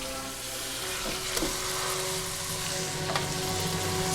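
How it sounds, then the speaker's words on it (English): Ground beef browning in a pot over medium-low heat, a quiet steady sizzle with occasional faint stirring scrapes, no voices. "you're just gonna brown this beef up"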